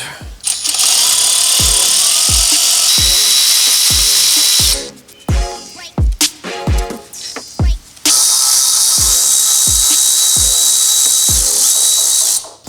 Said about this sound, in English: Using a hex bit 10 size, that's what we're going to use to remove the caliper bolts.